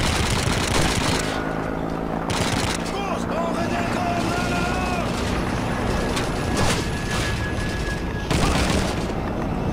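Dense, continuous gunfire in a Call of Duty 2 battle during a German counterattack, with rapid machine-gun bursts, rifle shots and booms layered over each other, loud throughout, with a voice shouting in the mix.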